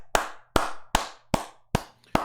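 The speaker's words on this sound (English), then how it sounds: "That deserves a clap." One person claps six times at a steady, unhurried pace during an online roundtable show. Each clap is sharp and close, with a short silence after it.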